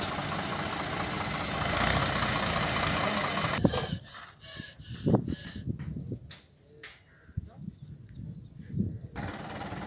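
A Swaraj 735 FE tractor engine runs and slips in a waterlogged wet field, a loud continuous diesel rumble that cuts off abruptly, leaving quieter knocks and clunks with some voices in the background.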